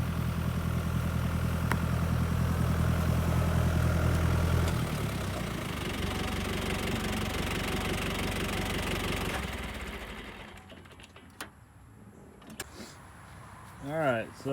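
A Hesston 666 tractor engine idles with a steady, deep, chugging rumble for about ten seconds, its tone shifting slightly midway, then drops away, leaving faint clicks and knocks.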